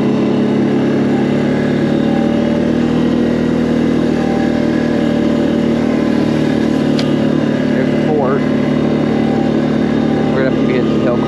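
A Can-Am Outlander 450 ATV engine warms up at a steady, loud idle, a continuous close mid-pitched drone with slight rises in revs throughout.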